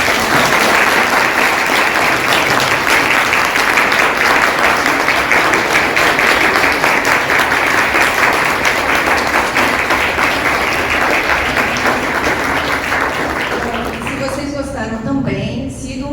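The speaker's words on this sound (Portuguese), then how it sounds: "Queria pedir muitas palmas." A live audience at a nerd and science women's debate event gives loud, sustained applause, a dense wash of clapping that carries on for many seconds before thinning out near the end.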